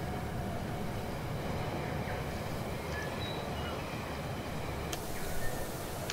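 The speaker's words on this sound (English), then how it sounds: "Here's a little station right here, and there's a train coming." Continuous rumbling of a train rolling along track in the video game Rolling Line, a steady dense rush with faint higher squeals and no talking.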